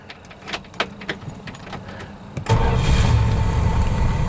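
A 1966 Dodge Coronet 440 with a three-speed automatic cranks with a few clicks and rattles, then its engine catches and settles into a steady, close idle for the rest of the moment.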